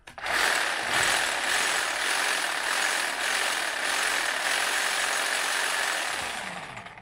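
A STIHL HLA 56 cordless hedge trimmer switched on and running, a loud, steady buzzing whir of reciprocating blades that holds for several seconds and then winds down.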